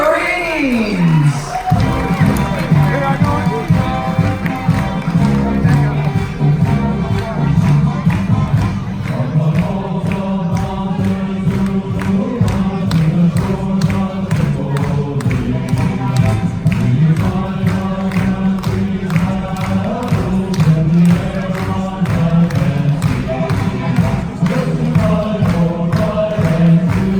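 Party crowd aboard a Carnival cruise ship cheering, whooping and applauding Marines at a military appreciation gathering, loud and continuous over pounding music, with a voice at the start.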